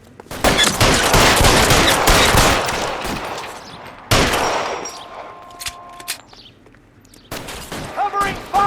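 Gunfire in the video game L.A. Noire: dense, rapid bursts of shots with clanging impacts, a loud sustained volley for about four seconds, then a second burst and scattered single shots, with a voice calling out in between.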